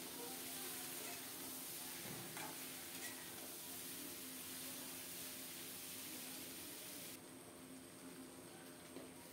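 Chhara fries in a pan on the stove with a steady, close sizzle and hiss, broken by a few stirring scrapes, and the sizzle drops slightly toward the end.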